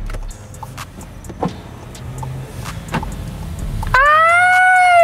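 A car pulls away in Miami after being shifted into drive with the handbrake released. A quiet cabin rumble and a few soft clicks are followed by a loud, rising electric whine that holds steady as the car gets moving.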